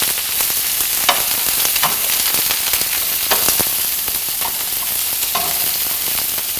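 Vegetables charring in hot olive oil over high heat for a quinoa tofu salad, a steady dense sizzle and crackle with occasional sharper pops, close and continuous throughout.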